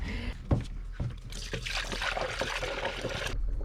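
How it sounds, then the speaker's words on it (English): Coolant pours into the reservoir of a 2014 Chevy Cruze with a close, steady liquid trickle and gurgle, broken by a few soft knocks at the start and a pause near the end. "while you're throwing the coolant in, you're just gonna wait until you stop hearing bubbles come through that reservoir"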